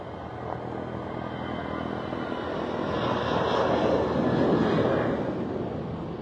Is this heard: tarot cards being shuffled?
no